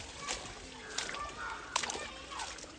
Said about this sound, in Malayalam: ചോലന്ന് വന്നിട്ട് ഒഴുകുന്ന വെള്ളമാണിത്.